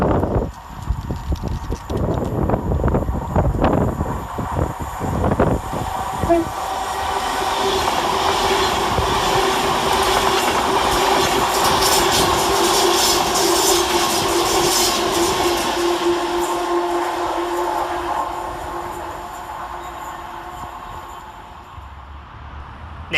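An Avanti West Coast Class 390 electric train runs through Smethwick Rolfe Street station, a long, steady, loud roar of passing carriages that builds, holds for most of the span, then eases off, with some rail clatter near the start.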